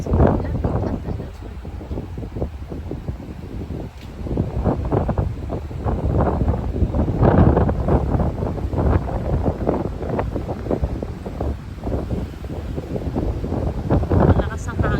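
Strong wind buffets the microphone in cold weather, a loud, continuous gusting roar that rises and falls throughout, with speech partly buried beneath it.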